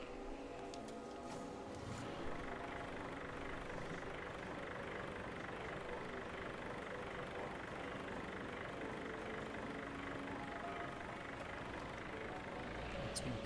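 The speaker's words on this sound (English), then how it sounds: "I think this is a 6-cylinder tractor." A six-cylinder tractor engine idles steadily in the Farming Simulator 22 video game, a vintage 1954 farming machine giving off a continuous low rumble and drone that stays loud and even throughout, with no break in the sound.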